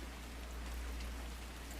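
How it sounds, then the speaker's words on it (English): Gentle rain falling outside a window, a steady, even hiss of drops with no distinct patter, low and continuous, alone without voices. "You try to focus on the gentle sounds of the rain outside your window"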